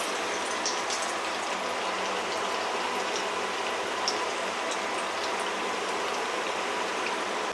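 Red pomfret fish pieces fry in hot oil with a constant dense bubbling sizzle, even and close, with occasional sharper pops and no talking.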